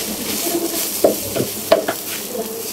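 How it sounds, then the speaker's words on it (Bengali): Jute leaves stir-frying in a pan over a medium-low flame give a steady soft sizzle, with a few sharp scraping clicks of stirring standing out. "ভাজা ভাজা করে নিব আমরা।"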